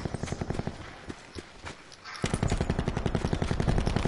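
Rapid bursts of gunfire in a close-quarters battle royale video game match, sharp repeated shots coming in quick volleys, pausing briefly before a dense, sustained stretch of firing.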